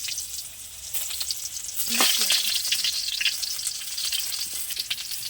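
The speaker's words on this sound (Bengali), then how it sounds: "কড়ার মধ্যে তেল দিলাম, পেঁয়াজ দিলাম" Onions sizzle in hot oil in a wok for a mango chutney, a soft, continuous hissing fry with light crackles and a brief louder flare, close up and without speech.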